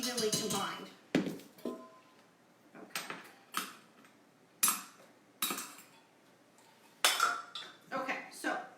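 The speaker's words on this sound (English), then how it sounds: "you just are going to whisk that together so it's evenly combined" A whisk clinks against a bowl while baking powder, baking soda and salt are stirred together, giving irregular bright metallic taps and short scraping bursts spaced by quiet gaps.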